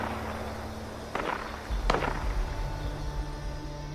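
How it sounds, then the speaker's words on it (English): Gunfire from Scorched enemies shooting at ghouls in the video game Fallout 76, heard as two sharp distant shots over a low ambient hum, with quiet footstep-like thuds between them. "I think the gunfire we're hearing is just Scorched shooting at ghouls, probably."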